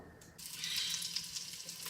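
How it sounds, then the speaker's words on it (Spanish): Meat frying in its own fat sizzles in a pan, a quiet bright crackle that starts abruptly and holds steady with small popping spikes throughout. "lo voy a dejar aquí que empiece a freírse con su propia grasa"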